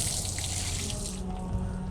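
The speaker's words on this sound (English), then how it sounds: "Now I will come to my rinse bucket, massage it at the bottom, make sure everything is out of my mitt" A car wash mitt is worked and massaged at the bottom of a rinse bucket of water, giving a steady close sloshing and splashing churn that continues throughout with no talking.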